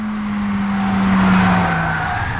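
Vredestein Hypertrack tires on a 2021 Toyota Corolla XSE losing grip, a loud sustained squeal over engine drone, steady for a couple of seconds, close and without talk.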